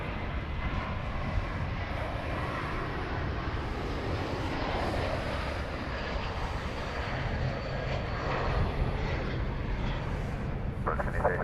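An American heavy airliner rolls for takeoff from runway 18 left at DFW Airport, a steady, loud broadband jet roar that holds throughout without a break.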